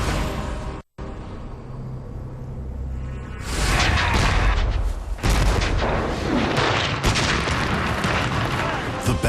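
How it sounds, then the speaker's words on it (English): Massed Confederate cannon bombardment at the Battle of Gettysburg, with dense, continuous booming and rumbling blasts that swell loud and thunderous after a brief cut near the start. "200 Confederate cannons pound the Union position."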